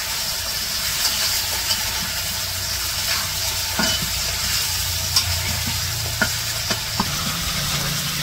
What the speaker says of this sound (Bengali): মশলা কষানো হয়ে গেছে, এখন মাছগুলো দিয়ে দিতেছে, মাছগুলো কষিয়ে নেব।